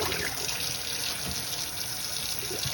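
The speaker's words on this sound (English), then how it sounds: "Drain the old water." Water pours steadily from a pot into a sink, a continuous close splashing rush with no pauses.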